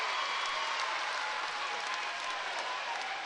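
A basketball crowd at a Hawkes Bay Hawks home game claps steadily after a made free throw, broad sustained applause filling the arena with no pause.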